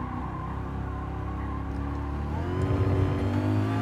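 An N600-class race car in Gran Turismo Sport on PS4, its engine humming steadily on track and then rising as it accelerates, close and alone with no voices.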